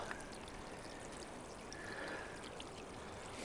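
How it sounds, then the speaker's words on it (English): Small creek of water flowing down a hiking trail in a regional park, a soft continuous trickle and burble heard faintly and evenly throughout, with no voices. "A little creek running down the trail."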